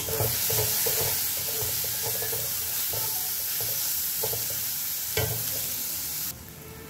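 Onion frying in a pan with white mustard paste and green chilies for mustard hilsa, a steady sizzle with repeated spatula scrapes and stirring knocks, close and fairly loud, ending abruptly.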